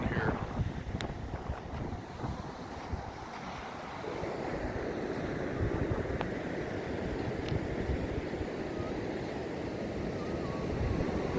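Ocean surf at Bryan Beach on a cold day rolls in as a steady broadband wash of breaking waves that swells louder after a few seconds, with wind buffeting the microphone throughout and no voices.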